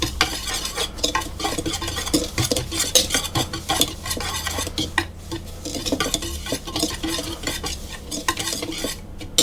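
Dry ingredients with garlic powder being stirred and broken up in a bowl for coconut flour rolls, a busy continuous scraping and tapping of utensil against the bowl, close and fairly loud.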